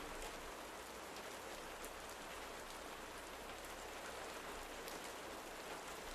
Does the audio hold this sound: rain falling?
yes